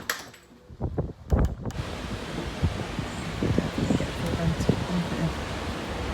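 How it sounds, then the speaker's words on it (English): Steady outdoor wind and rain hiss, with a few bumps and rustles early on, continuous and moderately loud. "How wet and windy it is."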